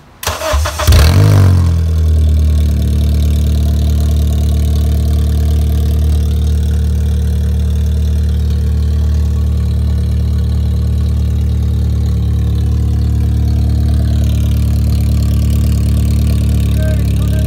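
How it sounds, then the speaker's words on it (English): A car engine with an exhaust leak, its catalytic converter stolen, cranks and catches, then settles into a loud, steady idle with a deep rumble, close by, running on without pause. "We're gonna start the car and check where the leak of the exhaust system."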